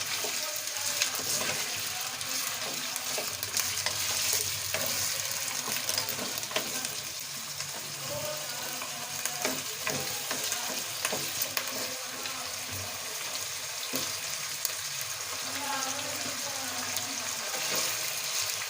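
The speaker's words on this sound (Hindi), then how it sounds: "अब इसकी भुनाई करें अदरक लहसुन के साथ अच्छी तरह से।" Steady sizzling of chicken frying with ginger and garlic in a hot pan, with occasional scraping and stirring, close and continuous throughout.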